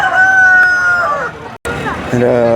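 Rooster crowing among chickens penned at a temple, a long loud crow followed after a brief gap by another crow and clucking, with faint crowd murmur behind.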